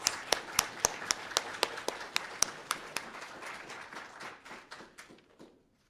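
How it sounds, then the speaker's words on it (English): Applause at a university Three Minute Thesis competition event: a small audience claps in sharp, separate strikes that thin out and fade to silence after about five seconds. "So a round of applause, please."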